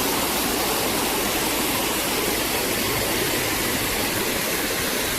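Water pours over the Holm Head Weir on a river, making a steady, loud, unbroken rushing roar with no pauses or other sounds.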